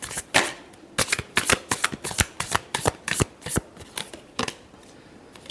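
Tarot cards being shuffled by hand, a series of crisp riffling bursts and slaps in quick irregular rhythm, close and clear with no talking.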